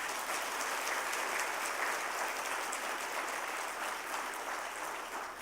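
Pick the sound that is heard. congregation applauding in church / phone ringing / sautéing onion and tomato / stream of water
congregation applauding in church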